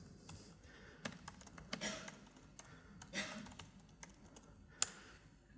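Keystrokes on a computer keyboard as a database query is entered into an IoT-DB console, with irregular light clicks and taps that are quiet and close, with no talking.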